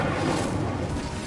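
A fire spell cast in the Hogwarts video game, a dense, steady roaring burst of flame that stays loud and even throughout its short length.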